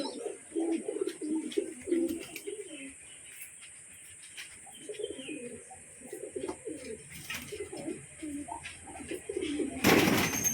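Pigeons coo repeatedly in soft, low murmuring phrases throughout, fairly close, over a steady high insect-like hiss, with a louder rustling burst near the end as a wing-clipped pigeon climbs into its house.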